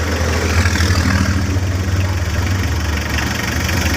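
A Mitsubishi 4D56 diesel engine idling, a loud, steady low throbbing rumble with a constant knocking rhythm, close and uninterrupted.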